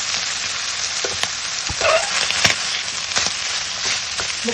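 Mutton pieces for Nalli Gosht biryani frying slowly in a pan, a steady close sizzle with scattered crackles and pops and occasional utensil scrapes, no voices.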